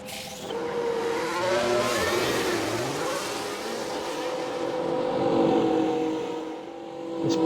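Formula 1 cars in the F1 Manager 24 racing game pulling out onto the track, a steady engine drone with rising and falling pitch sweeps, sustained throughout.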